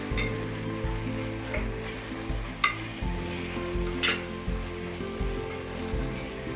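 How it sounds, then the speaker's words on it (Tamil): Coriander, mint and green chillies being sautéed for chicken dum biryani, a low continuous sizzle with repeated stirring scrapes and a couple of sharp utensil clinks against the pot, no voices. "இதை நம்ம நல்லா வதக்கணும் 2 minutesக்கு"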